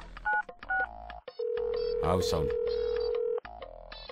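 A telephone keypad sounds short dialing beeps, then a long sustained tone plays while a voice talks over it, followed by a few more beeps.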